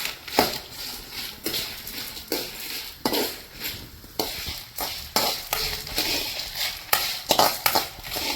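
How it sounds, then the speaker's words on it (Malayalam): Coriander, chili and turmeric roasting in a little oil for a Kerala chicken curry, with a spatula scraping and clanking against the pan in repeated strokes over a soft, steady sizzle. "ഇപ്പൊ മല്ലിയും മുളകും മഞ്ഞളും കൂടി വറുക്കുന്നുണ്ട്."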